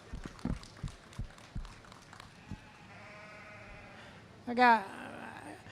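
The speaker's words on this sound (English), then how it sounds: "There's a sheep out here." Footsteps and soft thumps at a Horned Dorset sheep show, then a single loud, wavering sheep bleat near the end, close by.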